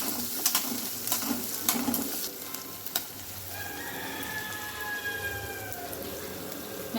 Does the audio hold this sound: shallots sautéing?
yes